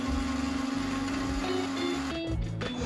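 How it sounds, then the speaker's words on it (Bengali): An electric blender whirs steadily as it mixes milk, ice cubes and chocolate milkshake ingredients, its motor whine loud and continuous, shifting pitch briefly near the end. "এবার আমি সবগুলো উপকরণ মিক্সারে মিক্স করে নিব।"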